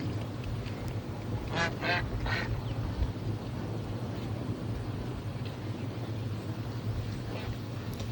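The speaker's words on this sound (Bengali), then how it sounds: "এখানে হাঁসও ঘোরাফেরা করছে।" Ducks quack in a few short bursts near the middle and again near the end, over a steady low outdoor hum by a resort lake in Mandarmani.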